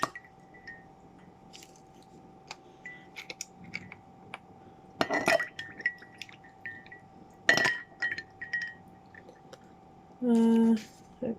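Ice cubes cracking and popping out of a plastic tray for homemade iced coffee: scattered sharp clicks and snaps, then a short burst of clinking near the end, close and fairly quiet amid room noise.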